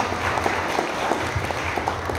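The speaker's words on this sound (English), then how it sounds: "Can I have a big round of applause?" A seated audience at a business talk keeps clapping in a brief, steady burst of full applause, many hands merging into an even roar close at hand.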